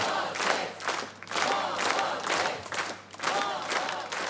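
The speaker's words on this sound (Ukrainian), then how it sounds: "Не спиняйтесь в оплесках!" Audience applause and cheering after a dance performance, rhythmic clapping in waves with shouts from the crowd, loud and sustained.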